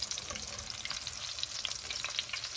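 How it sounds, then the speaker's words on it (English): Chicken cutlets frying in a pan give a dense, steady sizzle with crackling pops as they are flipped, close and alone without talk. "So I'm going to go ahead and flip them"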